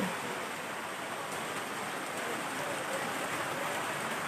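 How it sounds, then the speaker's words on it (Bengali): Rain falling after a long dry spell, a dense, even hiss of drops on surfaces at moderate distance, unbroken and fairly soft. "অনেকদিন পরে বৃষ্টি পড়তেছে"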